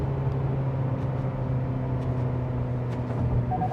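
A 2026 Kia Sportage SX-Prestige with four-cylinder engine pulling in third gear, a steady, moderately loud engine hum with sustained tonal drone heard from inside the cabin, no talking.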